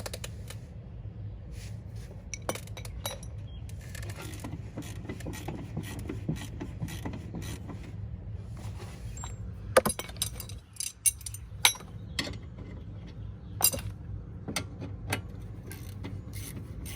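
A bolt is worked loose and pulled from the steering of a Tesla Model S, with quiet metallic clinks and ratcheting clicks over a low hum and several sharper snaps in the later part.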